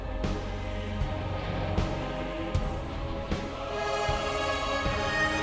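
A music theme plays with its tonal stinger layered on top, both at maximum intensity, a dense continuous musical bed with sharp accented hits recurring roughly every second.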